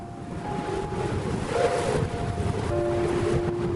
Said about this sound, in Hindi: पत्तियां सरसराती हैं।